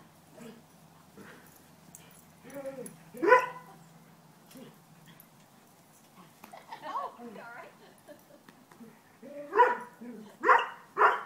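Small puppies yapping and whimpering in scattered bursts during rough play, close and moderately loud, with quieter gaps between outbursts.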